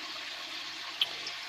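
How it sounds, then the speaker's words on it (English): Water running steadily into an aquarium fish tank as it fills, a continuous close hiss and rush of pouring water with no talking. "just filling up the tank, so I better watch I don't overflow that"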